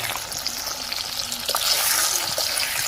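Sliced onion frying in oil with brinjal pieces, a steady bright sizzle and crackle close by, with faint stirring and no talk.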